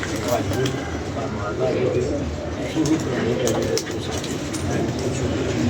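Pigeons cooing softly amid a noisy background, with people talking nearby over the steady cooing.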